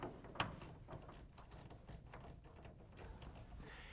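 Screws being tightened on the bed cover of a 1966 Ford truck, a faint, quiet series of rapid ratcheting clicks repeating steadily, close by in a calm workshop.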